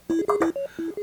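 Short bursts of harsh, buzzy crushed sine wave synthesizer tones from an Akai oscillator in quick stepped pitches, a gritty retro 8-bit electronic sequence lasting about a second.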